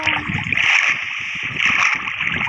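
Outdoors at the water, a mix of splashing and rushing water sounds continues steadily for a couple of seconds, close and fairly loud, as people prepare to jump in.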